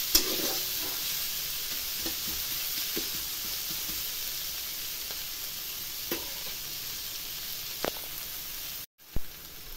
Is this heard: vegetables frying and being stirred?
yes